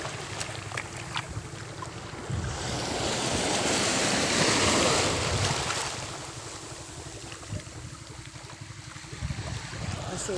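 Wind gusts by the water, swelling into a loud rushing roar midway before easing off, over a low wash of surf.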